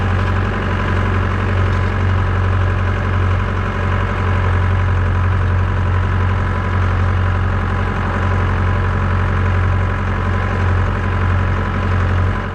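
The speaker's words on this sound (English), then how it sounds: "Those things spin violently and throw the hay backwards to spread it out." A tractor pulls a hay tedder whose spinning tines throw and spread hay, heard as a loud, steady, close engine drone without a break.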